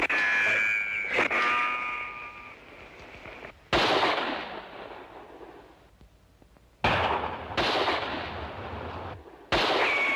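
Gunfire in a 1967 film shootout: sharp loud bursts of shots break in at intervals, each followed by decaying noise, with quieter stretches and a ringing tone early on.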